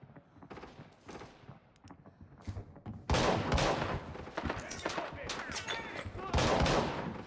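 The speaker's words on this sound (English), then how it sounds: "especially after the bots started firing" Gunfire from AI bots in the shooter game Arena Breakout, during a solo run in a TV station map: scattered shots at first, then dense, loud bursts of rapid fire that carry on to the end.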